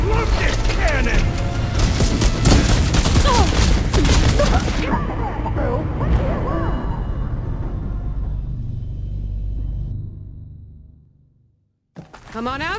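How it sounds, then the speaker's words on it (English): Heavy booming cannon fire and chaotic blasts in the video game Horizon Forbidden West rumble densely for several seconds, then fade to a low rumble and silence before a sudden burst. "I love this cannon!"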